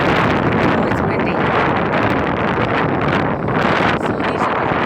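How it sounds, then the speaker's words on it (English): Strong tornado-driven wind roars and buffets the microphone without a break, a dense, loud rush of air with rustling over it in an Indiana yard full of broken pine trees. "Oh, it's windy."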